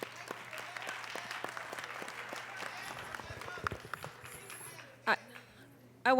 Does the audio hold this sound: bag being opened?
no